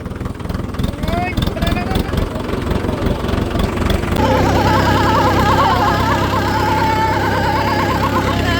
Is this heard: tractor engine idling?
yes